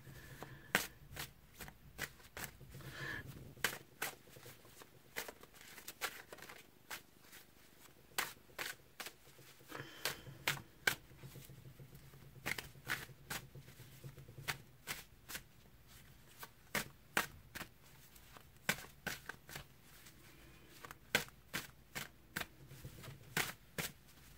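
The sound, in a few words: shuffling a deck of cards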